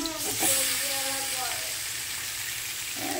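Food fries lightly in hot oil in a home kitchen, giving a steady soft sizzling hiss while a person talks over it.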